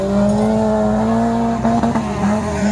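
A battered wreck-race car at a Wrak Race event in Suchodół drives past with a steady, loud engine drone and a rising pitch shift near the end, set against outdoor crowd ambience.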